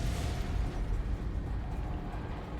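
Rumbling explosions in Fallout: New Vegas Lonesome Road, a dense low boom and roar that fills the whole stretch at a steady, heavy level with no pauses.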